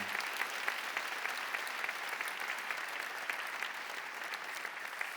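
A church congregation at a choir appointment service gives steady, dense applause to honour choir members, sustained and even throughout without speech.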